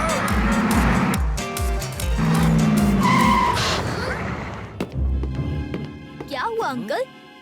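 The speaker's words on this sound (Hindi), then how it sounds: "अचानक ये बस क्यों रोक दी?" A cartoon bus skids abruptly to a halt with loud tire screeching and engine noise, followed by short whooshing and rattling effects as it settles.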